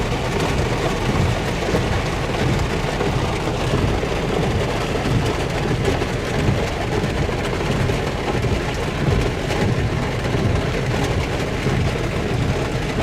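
A thunderstorm during a tornado chase in Minnesota: loud, dense, continuous rain roar with low rumbling thunder underneath, steady and close throughout.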